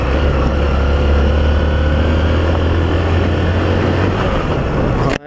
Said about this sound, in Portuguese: É um carro aí.